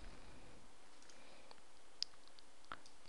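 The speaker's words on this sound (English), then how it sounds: "right click the bottom left corner of the screen, right click here, and then select disk management" A computer mouse is right-clicked on a Windows 8 machine, giving two faint, sharp clicks a little under a second apart over a steady hiss.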